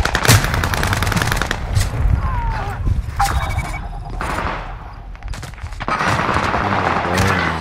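Rapid automatic gunfire in the shooter Warzone: dense, loud bursts of machine-gun fire, close by and nearly continuous, with short pauses and a couple of separate sharp shots.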